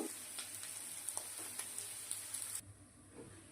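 Cubes of paneer fry in hot oil, a close, steady crackling sizzle with small pops that drops away sharply near the end.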